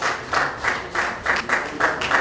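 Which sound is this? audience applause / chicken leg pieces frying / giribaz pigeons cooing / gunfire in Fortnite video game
audience applause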